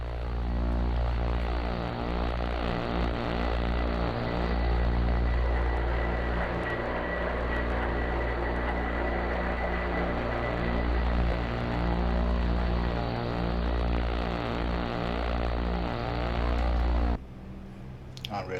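Twin engines of an OV-10A Bronco running after a cold start in the DCS World flight simulator, a loud, steady propeller drone that holds for most of the clip before dropping off near the end.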